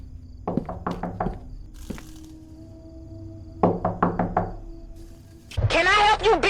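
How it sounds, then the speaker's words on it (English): Knocking on a door in the horror game Fears to Fathom: two quick sets of four or five sharp raps, a few seconds apart, close and clear, followed by a voice speaking. "mid-sentence, we hear a knock on our door"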